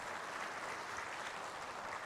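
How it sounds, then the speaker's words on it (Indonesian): Applause from the audience at an Islamic religious lecture: a steady, even wash of many hands clapping together, continuous and moderately distant with no talk over it. "Boleh tepuk tangan."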